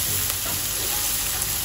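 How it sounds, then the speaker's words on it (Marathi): Onion frying in a pan while cooking aloo matar, a steady close sizzle that runs without a break and with no talk. "कांदा आपल्याला चांगल्या प्रकारे शिजवायचा आहे।"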